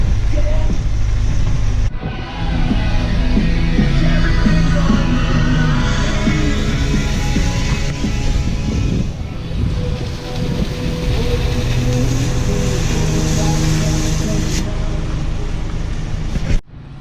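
A turbocharged car accelerates hard with a loud, continuous engine roar inside the cabin, rising in pitch and briefly dropping around the shift into fifth gear, then pulling again before cutting off abruptly near the end.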